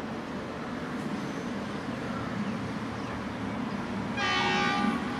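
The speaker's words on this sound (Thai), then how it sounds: "เสียงหวีดมาแล้ว" An Alstom locomotive hauling a container freight train rumbles steadily nearby on the curve at Bang Sue, then sounds a loud, sustained horn blast near the end.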